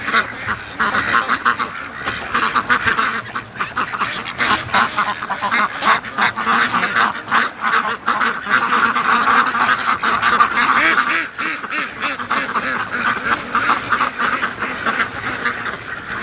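Free-range ducks returning home in the late afternoon quack continuously and loudly in a dense, overlapping flock chorus that never lets up.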